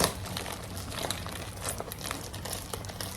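Plastic shrink wrap on a mug package crinkles and crackles close up as it is pulled open, a dense run of irregular sharp rustles and crunches with no talking.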